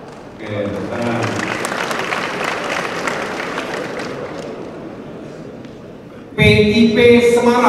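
Audience applause for a campus group, steady broadband clapping sustained for several seconds before a loud burst of voices and cheering at the end.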